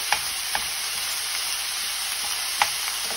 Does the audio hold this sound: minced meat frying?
yes